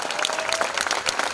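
A May Day rally crowd applauds a political speech, a brief burst of dense clapping from many people, loud and close, with faint voices mixed in.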